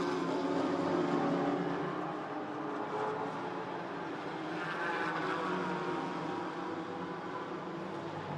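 GT4 race cars at Hockenheim rush past at a distance, their engines rising and fading in a continuous blended roar with no talk.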